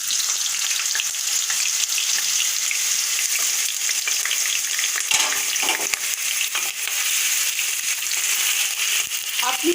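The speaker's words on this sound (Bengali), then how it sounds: "আমি আলুটা ছেড়ে দিচ্ছি।" Potatoes sizzle and crackle in hot oil in a pan for a Bengali banana flower curry, a continuous bright frying hiss with occasional stirring scrapes and pops, close and loud throughout.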